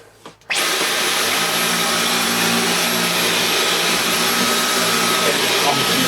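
A Dyson V11 Absolute cordless vacuum cleaner kicks on after a brief click and runs on carpet with a loud, steady high-pitched whine and airflow roar, close up and unbroken.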